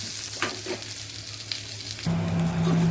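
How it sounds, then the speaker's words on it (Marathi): Onions fry in a pan for a spicy rassa curry, a continuous crackling sizzle with occasional stirring scrapes, and the sizzle grows louder and denser partway through. "कांदा चांगला काळा होईपर्यंत भाजायचा"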